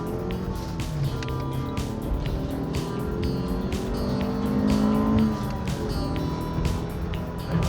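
A 1992 Acura with a 1.7 liter engine accelerates, its engine note rising steadily and heard from inside the cabin, with no talking.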